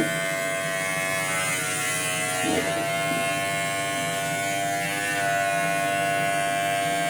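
Electric hair clippers fitted with a number two guard buzzing steadily while cutting a man's hair at home in a bathroom, a close, constant motor drone with slight changes as strokes are made.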